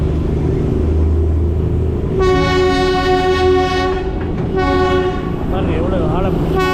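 The Darjeeling Joy Train, a narrow-gauge toy train, rumbling steadily along its track, with a loud, sustained horn blast that cuts out and then sounds again over the continuous rolling noise.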